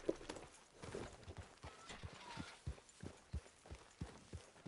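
Horse hooves clip-clop in the video game Red Dead Redemption 2, a steady walking rhythm of distinct thuds, close and clear, with faint ambient noise behind.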